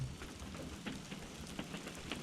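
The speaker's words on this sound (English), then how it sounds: "A nice rain." Steady rain falling at an RV campsite in Alabama, a soft continuous hiss with scattered drops pattering on a surface, fairly quiet and uninterrupted.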